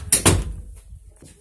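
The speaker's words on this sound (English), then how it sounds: "There's a knock." Two firm knocks land on a door in quick succession, close and fairly loud, followed by faint room noise and a soft later thump.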